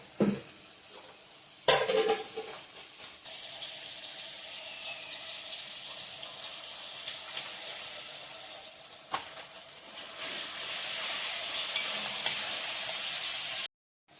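Turmeric stirred into hot oil for a Maharashtrian dry chicken dish, a steady soft sizzle with a sharp clatter near the start and the frying growing brighter and louder toward the end.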